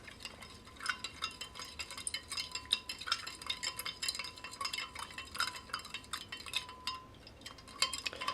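Chinese PLA Type 13 ration fried rice with pork and vegetables being mixed in a tray, with a steady run of light scraping and soft clinking throughout, fairly quiet and without voices.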